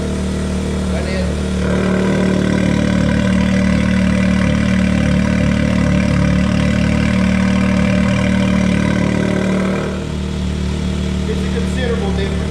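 A BMW X3 engine with its factory muffler idles and revs, a steady low exhaust drone that swells for about eight seconds before settling back to a quieter idle.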